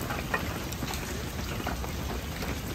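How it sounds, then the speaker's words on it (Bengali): Rain falls steadily on a rainy day in a village in Narsingdi, Bangladesh, a dense, even hiss with scattered soft drop taps. It sounds fairly close, and no voices are heard. "এই বৃষ্টি ফোটা"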